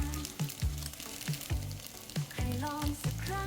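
Spaghetti and sausage being stir-fried with sauce in a pan, giving a steady close sizzle broken by repeated scraping and tossing strokes from the utensil.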